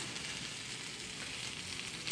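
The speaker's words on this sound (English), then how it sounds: "But you can hear him sizzle." An Italian grilled cheese sandwich sizzles in a pan as the cheese melts, a quiet continuous crackle and hiss with no voices.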